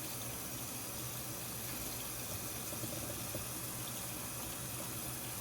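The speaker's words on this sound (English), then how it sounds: "And I'm using hot tap water." Hot tap water runs steadily into an apartment sink to rinse freshly dyed ESEE knife scales, a constant close-up rushing splash with no pauses.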